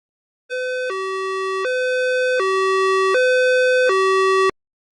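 An ambulance siren sounds alone, a loud, clean two-tone wail alternating high and low pitches about every three-quarters of a second before cutting off abruptly.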